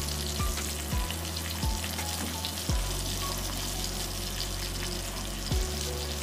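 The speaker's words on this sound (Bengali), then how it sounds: "খুব লো ফ্লেমে আমাকে এগুলিকে খুব ভালোভাবে ভেজে নিতে হবে।" Chicken pieces frying in oil over a low flame for butter garlic chicken, with a constant soft sizzle and several low thumping knocks spaced through it, nearby and without speech.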